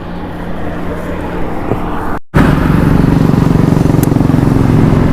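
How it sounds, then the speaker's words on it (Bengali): A motorcycle starts after a brief cutout and then runs loudly and steadily, its engine throbbing close to the microphone. "তো বাইক স্টার্ট করলাম"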